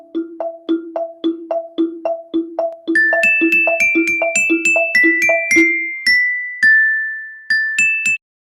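A virtual xylophone built in Scratch plays alternating board notes. A steady run of evenly spaced low mallet tones gives way to higher bell-like pings and sustained tones, all clear and close with no talk over them.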